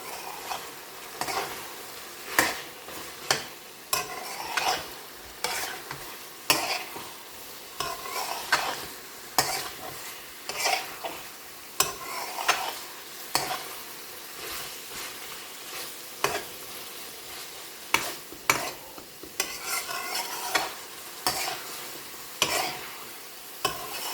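Spices frying in a pan for garlic chilli chicken, stirred steadily with a utensil: a constant sizzle broken by frequent rhythmic scrapes and clinks against the pan, close and moderately loud, with no talking.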